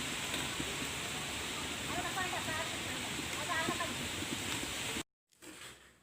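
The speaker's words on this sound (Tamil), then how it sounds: "நம்மளோட மீன் குழம்பு வந்து நல்லா கொதிச்சிட்ருக்கு." Tamil-style fish curry (meen kulambu) boiling in a pot, with a steady hiss and soft bubbling pops heard close, running for about five seconds before cutting off to near silence.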